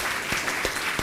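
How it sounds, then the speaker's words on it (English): Short burst of warm audience applause at a talk event, steady broadband clapping over about a second with no speech. "It's worth a warm applause."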